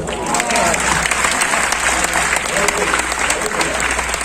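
Steady, loud applause from a large audience at a comedy show, continuous clapping filling the whole stretch without a break.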